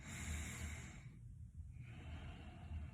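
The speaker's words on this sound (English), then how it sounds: "The bellows breathing, where you're using your stomach pushes in when you breathe out." Bellows breathing in chair yoga, driven by the stomach: a close, audible breath rushes through, pauses briefly, then resumes as a soft steady airflow, with no talking.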